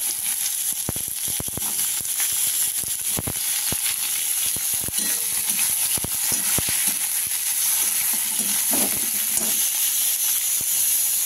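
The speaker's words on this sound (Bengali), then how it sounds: "এবার আমি দিয়ে দিচ্ছি পেঁয়াজ কুচিটা।" Chopped onion drops into hot oil already holding chopped garlic, starting the base for tarka daal; a loud steady sizzle and hiss fills the pan, broken by sharp crackles and pops, with no talk.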